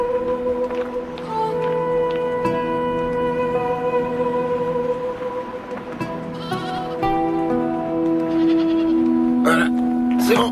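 A goat bleats in repeated wavering, tonal cries over a continuous background during a desert drama scene, with voices mixed in around it.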